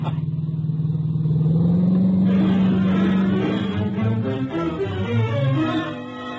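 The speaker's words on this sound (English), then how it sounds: "I drove back south as hard as I could." Car driving effect for an old-time radio drama, a steady engine drone that rises in pitch and then settles into a rough, rumbling hum, loud and alone without voices.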